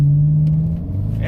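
A Dodge Challenger R/T engine pulls hard through a curve as a deep, steady low drone from inside the car, loud and continuous for the whole moment.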